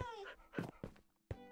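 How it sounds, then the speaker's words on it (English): Dog whimpering in Minecraft Bedrock, a few short high whines and yips with a pause between, then a sudden louder burst at the end, quiet and close, with no voices. "So many dogs."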